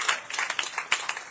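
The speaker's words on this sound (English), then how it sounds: "A round of applause." An audience at a gathering honoring Richard Bass, founder of P.A.L.S., gives a brief burst of applause: scattered, overlapping claps from several people, close and lively, lasting only a moment.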